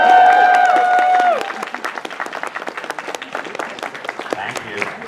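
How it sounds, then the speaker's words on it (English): Audience applause at a writers' panel, a dense burst of clapping that swells loud at the start, then settles into steadier, slightly thinner clapping that carries on throughout. "Round of applause for wallpapers!"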